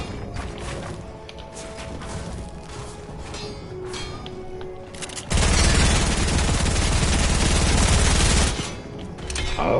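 Video game gunfire erupts in a dense, loud burst of rapid automatic shots lasting several seconds, preceded by quieter scattered shots and background noise.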